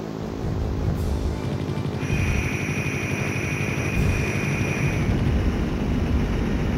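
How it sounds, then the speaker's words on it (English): Explosions rage in the Sega Saturn game Wing Arms, a continuous loud, rumbling roar with a hissing wash of noise across the whole stretch and no clear separate blasts. "It's freaking exploding like crazy."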